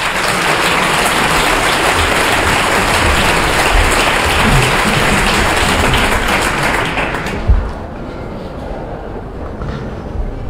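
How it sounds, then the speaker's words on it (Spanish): An audience applauds to welcome Francisco Mora at a talk event, loud and dense from the start, then the clapping dies away after about seven seconds into a quieter room with a few scattered claps. "Un aplauso y la bienvenida para Francisco Mora."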